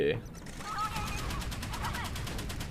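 Naval guns fire in the warship video game Modern Warships, with a Zumwalt and a Chinese Type 058 involved, as a rapid, rhythmic burst of repeated shots under a short bit of voice.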